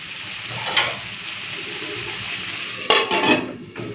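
Okra frying in a pan over a gas flame, a soft continuous sizzle with a couple of clanks and scrapes of utensils against the pan, close by with no talk.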